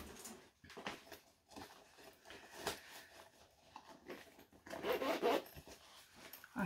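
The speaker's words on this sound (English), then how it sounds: "I close again the zipper," A zipper is pulled in several short, scratchy strokes, close up and quiet, ending in a longer rasping run.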